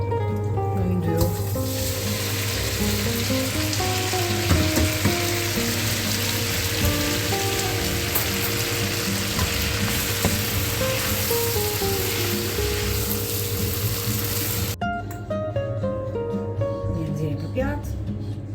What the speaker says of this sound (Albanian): Tani e kullojmë dhe i kalojmë në yndyrë.